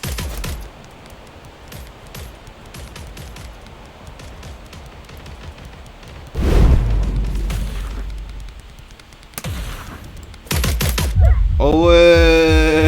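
Rapid bursts of gunfire in the blocky online shooter Blankos Block Party crackle in clusters, with heavier booming blasts partway through and a louder stretch of shooting near the end.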